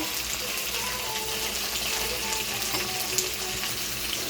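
Tomatoes frying in oil in a pan for dried fish thokku, a steady, moderately quiet sizzle that runs continuously without pause and without voices.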